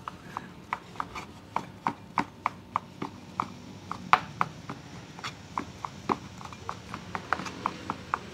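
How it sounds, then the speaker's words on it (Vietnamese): Knife dicing tapioca dough on a board, a steady series of sharp, light taps in quick even rhythm, close and clear over a quiet background with no talk. "Cái này gọi là cắt hột lựu hả?"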